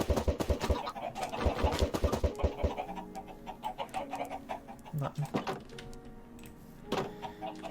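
Chickens in a modded Minecraft survival world cluck over and over in quick, overlapping bursts, loud and close throughout, with a steady mechanical whir underneath.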